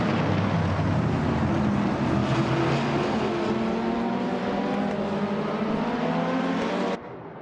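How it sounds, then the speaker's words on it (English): Race cars, including a 2021 Chevrolet Camaro, launching off the line at Wakefield Park in a racing video game, a loud, dense roar of engines rising in pitch together and then cutting off abruptly. "the race has just kicked off at Wakefield Park"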